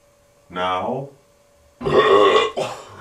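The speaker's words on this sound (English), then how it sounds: "I had to burp, man." A short burp sounds first, then after a pause a longer, louder, rumbling burp follows, close and unaccompanied.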